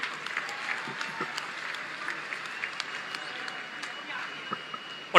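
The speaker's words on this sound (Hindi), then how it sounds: "तो जोरदार तालियां हो जाएं फिर से दोनों हॉकी टीम्स के लिए।" An audience claps steadily for two hockey teams at an Olympic players' honouring ceremony in Lucknow, a dense, moderately distant patter with scattered sharper claps and faint crowd murmur.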